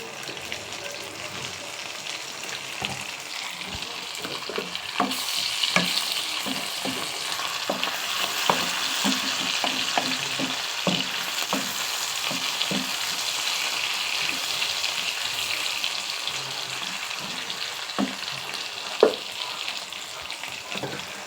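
Chopped tomatoes dropped into oil with onions already fried red, giving a steady close sizzle across the whole stretch, with small pops and spatula taps throughout.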